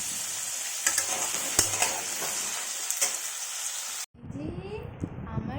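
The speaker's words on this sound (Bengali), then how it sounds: "আর কুমড়ো আর আলুটা আগে ভেজে নিচ্ছি।" Pumpkin and potato pieces frying in a pan give a steady, close sizzle with occasional stirring clicks and scrapes; the sizzle shifts and crackles more sharply near the end.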